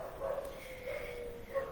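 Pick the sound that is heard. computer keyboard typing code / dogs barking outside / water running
dogs barking outside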